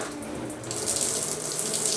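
A bathroom tap in an old Kraków hotel runs with weak pressure, a steady close hiss of water splashing into a basin that grows slightly louder partway through.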